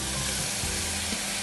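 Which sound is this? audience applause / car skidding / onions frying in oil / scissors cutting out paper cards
onions frying in oil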